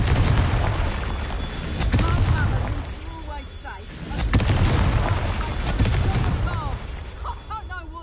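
Repeated fire-spell explosions in the video game Hogwarts Legacy on PS5 burst as a series of booming blasts with crackling debris, mixed with game effects and a voice talking between them.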